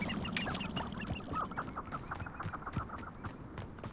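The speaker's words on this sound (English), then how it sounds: "Chicken." A chicken in Hogwarts Legacy clucks repeatedly in quick, choppy bursts, faint and mid-distance over a soft background bed of game ambience.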